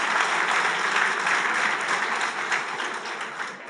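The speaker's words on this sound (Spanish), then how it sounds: "Un aplauso." A lecture audience on conservatism versus liberalism bursts into dense, steady applause that fills the room for the whole stretch, loud and unbroken, easing only slightly near the end.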